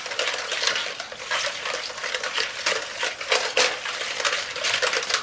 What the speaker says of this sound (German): jetzt erstmal umrühren.